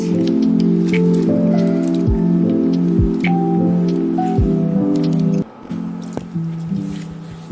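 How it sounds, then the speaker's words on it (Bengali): Mung dal lentils are dropped into water for boiling, giving a few soft splashy plops and drips. Steady tonal background music plays over them throughout. "এবার দেখো ডালটাকে আমি বয়ল করার জন্য জলের মধ্যে দিয়ে দিই"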